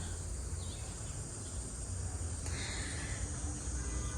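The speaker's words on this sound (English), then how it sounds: "Oh, you hear the cicada?" Cicadas buzz in a steady, high, shimmering drone that carries on without pause, with a low rumble of wind or traffic underneath.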